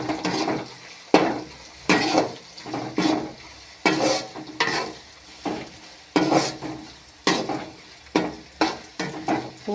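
Garlic and onion sautéing in a pan for tomato thokku, with a spoon stirring in a steady rhythm of repeated scraping strokes, each about a second apart, over a light sizzle.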